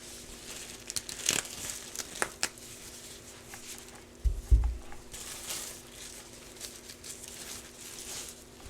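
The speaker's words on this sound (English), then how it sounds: "So I'm just going to grab 3 plastic bags and I'll wrap them" Plastic bags are handled and crinkled up close, giving quiet, scattered crackles and rustles with a couple of louder crunches partway through.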